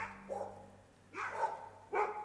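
Dogs bark in short, close bursts, three separate volleys with brief pauses between them, alone without talk.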